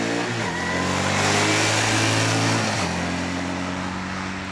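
A Yamaha Dragstar 650 cruiser motorcycle engine runs close by with a low, steady rumble that shifts pitch as it revs and changes gear, with no talking.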